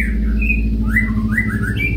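A long-tailed white-rumped shama (murai batu) sings a string of bright whistled and chirping phrases, close and clear over a steady low hum.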